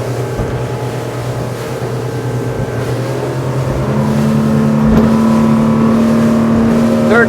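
A 2024 Sea Ray SPX speedboat engine drones steadily at high revs, its pitch rising and strengthening partway through, with rushing water and wind noise throughout.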